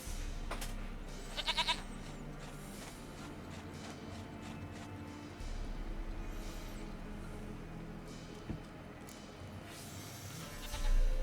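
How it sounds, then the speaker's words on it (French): A goat bleats in The Witcher 3 video game: a couple of short, nasal calls over a steady, low game ambience with faint outdoor noises and no talking. "Une chèvre à moi, gentille, douce, Piquette."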